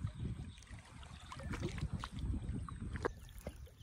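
A fishing boat moving along a Sundarbans river, soft water lapping and splashing with gusts of wind buffeting the microphone, fairly faint and uneven, without speech.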